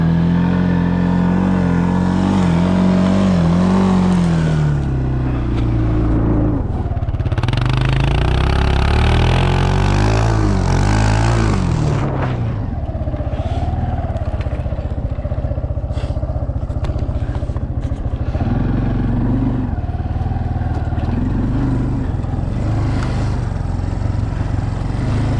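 A Kawasaki Bayou 250 ATV running through snow in Appalachia, its small engine droning loud and close, revving up and down in surges with some mechanical clatter.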